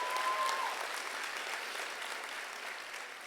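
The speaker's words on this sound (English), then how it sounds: "go ahead and applaud" Community college commencement audience applauding the class of 2019 graduates, a broad wash of clapping at moderate distance that starts strongest and slowly tapers off.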